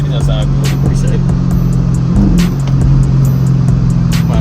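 Chevrolet Camaro SS with a crackles-and-pops exhaust tune, heard from inside while driving. A loud steady engine rumble carries sharp intermittent pops and crackles, with speech over it.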